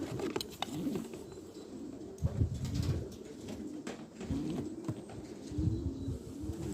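Several pigeons coo in overlapping, repeated rolling calls from a loft of about 120 birds, fairly close and steady, with soft rustling and patter between the phrases.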